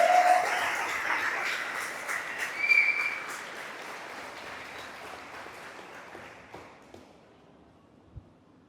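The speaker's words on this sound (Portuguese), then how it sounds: "quem pode dar um aplauso ao Jesus?" A church congregation bursts into loud, sustained applause with scattered whistles and cheers, the clapping gradually thinning and fading out toward the end.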